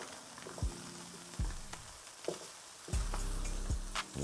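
Butter hitting a hot pan while cooking mahi mahi, a soft steady sizzle broken by clanks of a utensil against the pan and brief thumps, close and fairly quiet with no speech.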